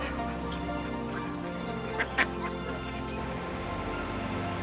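A duck on the Norfolk Broads, seen from a boat, gives a couple of short quacks near the middle, set against a quiet outdoor background.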